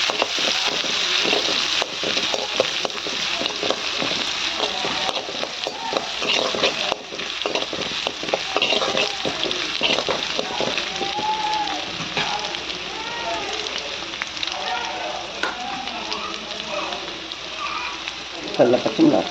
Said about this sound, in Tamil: இது நல்லா வதங்க வச்சுக்கலாம்.